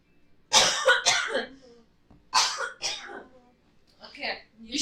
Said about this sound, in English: we've both been coughing